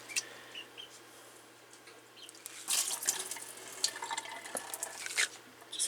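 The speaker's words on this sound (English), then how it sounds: "Just put water in, pour it out" Water poured over sprouting adzuki beans as they are rinsed on the third day, giving quiet trickling and splashing that swells into louder gushes partway through, with no talk.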